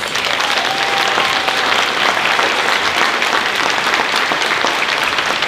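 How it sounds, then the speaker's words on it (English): Audience at a nonprofit's 30th anniversary luncheon applauds honorees, a steady, dense round of clapping sustained at even loudness throughout, with no talking over it. "Let's give our honorees another round of applause."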